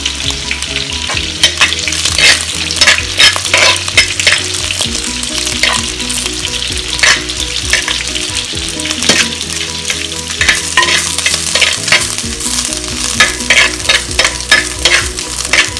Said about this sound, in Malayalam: അരിഞ്ഞു വെച്ചിരിക്കുന്ന ചെറിയ സവാള, പച്ചമുളക്, ഇഞ്ചി ഇതൊന്ന് നമുക്ക് വഴറ്റിയെടുക്കാം